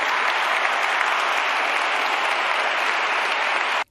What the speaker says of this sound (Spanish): Juan Eugenio conmovió al público que le brindó una ovación al concluir su oratoria